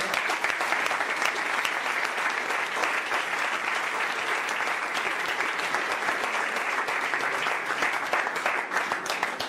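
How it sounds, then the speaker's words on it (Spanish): A church congregation applauds in a long, thick, unbroken roar of clapping, loud and close throughout without any voice rising above it. "Dale un aplauso al Señor."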